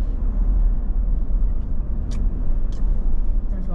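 Steady low road rumble inside a moving car, a continuous engine and tyre drone with a few brief higher clicks and rattles, close and fairly loud throughout.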